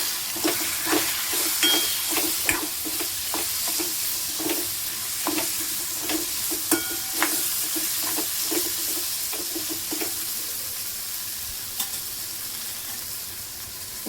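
Eggplant and potato pieces fry and get stirred in hot oil, a steady close sizzle broken by frequent rhythmic scraping taps of the spoon against the pan.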